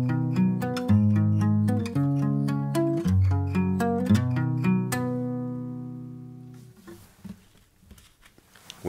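Acoustic guitar strings plucked with a hair band ring in a quick, uneven run of notes for about five seconds, then a sustained chord decays into faint rustling and handling noise.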